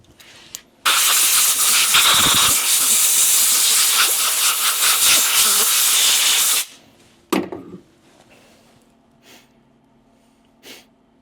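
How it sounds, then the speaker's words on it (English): Compressed air blasts loudly onto a Cerakote-coated part in a steady close hiss for about six seconds, then cuts off, followed by a short extra puff and a few faint handling noises. "Let me blow this off again."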